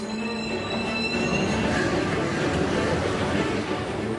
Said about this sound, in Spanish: Durante la hora punta de la mañana, más de 500 trenes viajan bajo la ciudad.